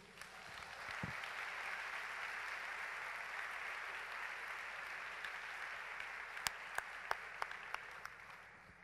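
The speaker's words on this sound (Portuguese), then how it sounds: "Aplauda a Deus por isso." Sustained applause from a church congregation during a Portuguese-language sermon, a steady wash of many hands clapping throughout, with a few sharper individual claps standing out near the end.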